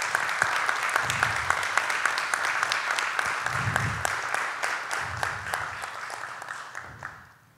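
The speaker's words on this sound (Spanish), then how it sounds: "Démosle un fuerte aplauso." Audience applause at a press announcement by the president naming Vice Admiral José Jorge Fortín, a steady roomful of clapping that fades out toward the end, with no talk over it.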